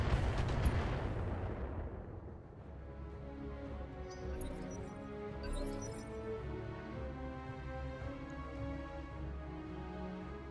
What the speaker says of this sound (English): Glitch is getting hit with the missiles now.